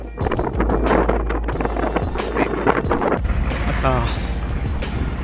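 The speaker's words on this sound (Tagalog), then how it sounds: "malakas ang hangin." Strong wind buffets the microphone outdoors, a loud low rumbling roar with gusty bursts while a person talks over it.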